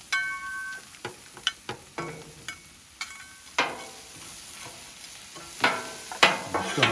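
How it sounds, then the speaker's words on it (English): Mushrooms with frozen peas and carrots fry in butter on a Blackstone griddle while a spatula stirs them, giving a soft sizzle under repeated sharp metallic scrapes and taps in an uneven rhythm, with no talking. "I'm just gonna mix all this together."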